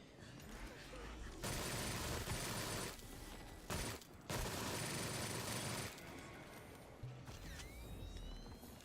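A PPSh submachine gun fires in the horror shooter Sker Ritual, long loud bursts of rapid automatic fire broken by short pauses, with mechanical clicks between them.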